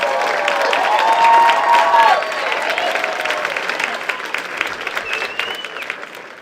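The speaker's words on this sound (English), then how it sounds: "Let's give them a well-deserved round of applause." A graduation crowd applauds with sustained clapping and a few cheers and whistles rising early, then settling into steadier, slightly fading applause.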